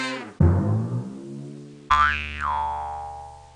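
A goofy Windows 3.0 multimedia extensions system sound: a bright twangy boing that decays, then a second boing whose tone bends downward and fades.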